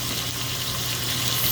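Water rushes into a pot of fried oxtail before braising, a continuous close hissing pour, steady and unbroken, with no talking.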